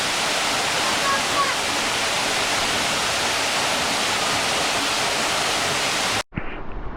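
A steady, roaring rush of the Cascadas Las Delicias waterfall in Ciales, Puerto Rico fills the scene, broad and constant, then cuts off abruptly near the end to a quieter background.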